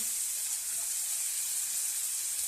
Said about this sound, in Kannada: ನೀರುಳ್ಳಿ ಹಾಕ್ತೀವಿ ಇದು ಚೆನ್ನಾಗಿ ಫ್ರೈ ಆಗಬೇಕು